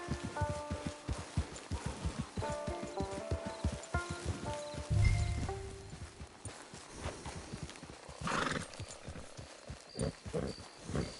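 Rhythmic clip-clop of horse hooves in Red Dead Redemption 2 Online, walking steadily over ground with a musical score and occasional game sounds mixed in.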